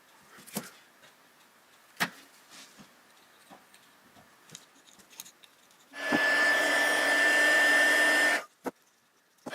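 A heat gun blows on heat shrink tubing over wires, a steady whooshing roar with a thin whine lasting a few seconds after scattered soft handling clicks, then cutting off abruptly.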